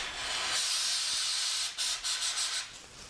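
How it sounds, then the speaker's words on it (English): A steady aerosol spray hisses continuously into a grocery bag for a few seconds, close and fairly loud, then breaks into several short bursts. "I'm gonna get this grocery bag and I'm gonna spray into it"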